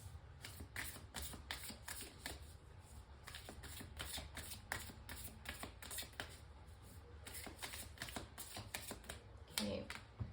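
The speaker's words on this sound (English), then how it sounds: "I actually just want to pull out one more oracle card" Oracle cards are shuffled by hand in rapid riffling bursts, quiet and close, with short pauses between the runs of crisp card flicks.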